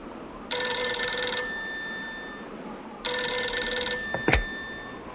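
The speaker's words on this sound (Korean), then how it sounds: "전화가 다시 왔답니다." An old-style telephone bell rings twice in a barracks setting, each burst about a second long, loud and close, with a short thump and faint background between rings.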